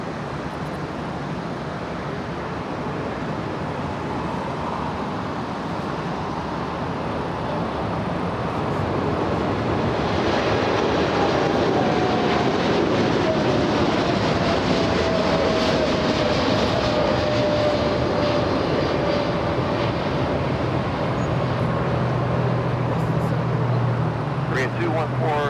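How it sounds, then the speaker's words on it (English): Boeing 747 taking off at LAX, its deep jet rumble building from a low roar into a louder, sustained thunder, with faint voices in the background. "Here comes the 747."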